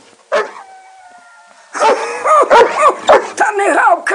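Dog barking and yelping in a 1960s Ukrainian village drama, a short yip, then a quiet stretch, then a loud run of close barks and whiny howls under a voice.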